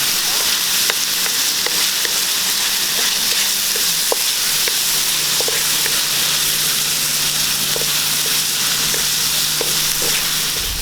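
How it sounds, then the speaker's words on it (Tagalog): Tomatoes sautéing in a pan for adobong talong with tofu, a steady close sizzle and frying hiss running throughout with occasional small pops and stirring clicks, no talking. "Hintayin lang po natin na maluto ng konti itong ating kamatis bago natin igisa yung ating talong at saka yung tokwa."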